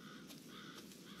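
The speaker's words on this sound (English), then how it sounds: "Some birds." Crows in the video game Resident Evil 7, with faint, repeated caws spaced evenly over a steady ambient background.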